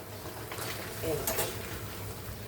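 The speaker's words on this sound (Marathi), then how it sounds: "ही मी कोलंबी सर्व टाकणार आहे बघा" Prawns added to cooked masala in a pan, frying with a dense close sizzle and some stirring scrapes across the short span.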